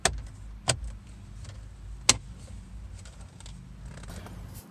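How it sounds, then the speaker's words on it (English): Plastic dashboard trim pieces on a Ford Edge are pressed into place, giving two or three sharp snapping clicks over a low, steady background hum, with no talking. "We'll set the trim in place, snapping the upper first, and then snapping in the lower."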